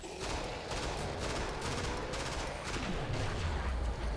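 Rapid full-auto gunfire from the shooter video game Killing Floor rattles in a dense, continuous burst, moderately loud and close, with a low descending tone underneath toward the end.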